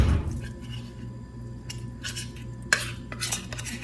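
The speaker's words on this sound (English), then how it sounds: "I just scrape the can and get out as much as I can" A metal utensil scrapes tuna from a can in a kitchen, giving a few soft scraping bursts with brief clicks against a low steady background hum.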